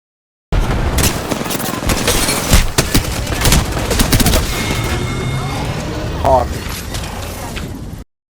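3030 Repeater firing in the video game Apex Legends, a run of sharp gunshots mixed with mechanical reload clicks and other battle noise, loud and close, over several seconds.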